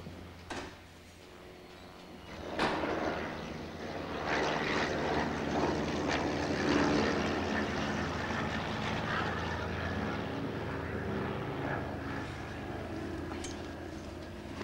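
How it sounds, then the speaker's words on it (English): A small Cessna propeller plane drones past, its engine rising from quiet to a steady buzzing hum that lingers, with a few faint knocks nearby. "That's a Cessna there. You can tell by the sound of the engine."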